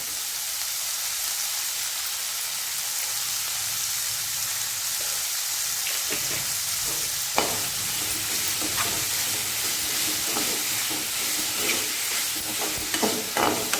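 Onions cooking with salt in a pan for a drumstick-leaf stir-fry: a steady background sizzle, then a run of close spatula scrapes and taps that becomes more frequent toward the end, with no voices.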